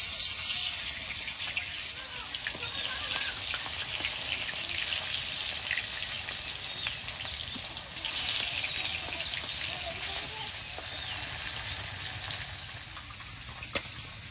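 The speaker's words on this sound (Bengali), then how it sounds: "কড়াইতে তেল দিয়ে দেবো, তেলটা গরম হয়েছে, এবার এক এক করে মাছগুলো দিয়ে দেবো।" Dried fish sizzling in hot oil in a wok, a steady hiss and crackle of frying that runs close and even throughout, with a brief louder spatter partway through.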